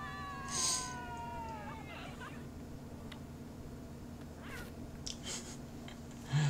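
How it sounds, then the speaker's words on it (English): An unhappy cat lets out a long, falling, drawn-out meow near the start, followed by quieter scattered sounds over a low background hum. "Not a happy cat."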